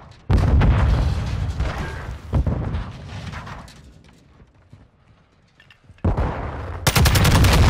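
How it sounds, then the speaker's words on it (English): A stun grenade goes off amid heavy gunfire in Call of Duty: Modern Warfare II, with loud bursts of shots and blasts, a brief lull in the middle, then sharp, intense firing returning near the end. "Stun grenade out!"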